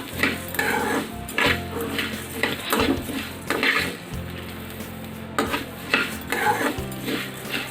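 Coriander powder is stirred in a pan, with a utensil scraping and clinking against the metal in quick irregular strokes, faint sizzling underneath, close and fairly quiet.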